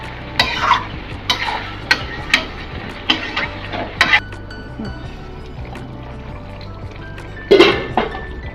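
Mutton curry is stirred in a pot, a series of distinct scraping, squelching strokes at a steady pace, loud and close, with a soft simmer between them.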